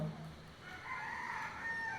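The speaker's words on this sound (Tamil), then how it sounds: "கோழி கூவிடுச்சு" A rooster crows once in a drawn-out call, somewhat distant and fairly faint over quiet background.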